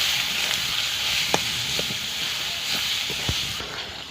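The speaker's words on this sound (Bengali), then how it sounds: "খুব ভালো করে কষে নেব আমি।" Spice masala of red chilli, coriander and cumin powder fries in oil for a bhetki fish biryani, a close, continuous hiss and sizzle with occasional stirring clinks, no voices over it.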